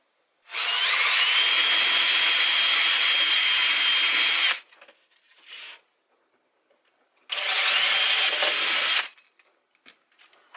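A power drill bores into fiberglass, whining loudly for about four seconds and stopping. After a pause it bores again in a shorter burst, with faint scraping between the runs.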